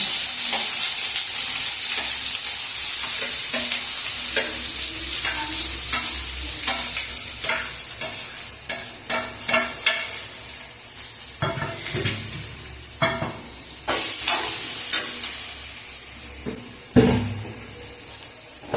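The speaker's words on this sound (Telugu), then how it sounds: "ఆయిల్ కాగిపోయిన తర్వాత ఆనియన్స్ వేద్దాం" Sliced onions fry in hot oil for a palak and peas curry, a constant loud sizzle broken by repeated scraping and stirring strokes of a spatula against the pan, with no talking.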